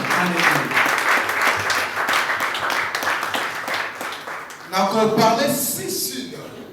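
A church congregation bursts into loud applause, dense rapid clapping filling the hall, with a preacher's voice calling out over it and the cheering swelling again near the end.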